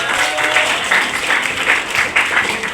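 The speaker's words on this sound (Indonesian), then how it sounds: "Tepukan untuk Pak Wahyu." Audience applause for Pak Wahyudin, a Riau Islands provincial legislator, at a school outreach session in Batam; dense, steady clapping from a crowd, fairly close and continuous throughout.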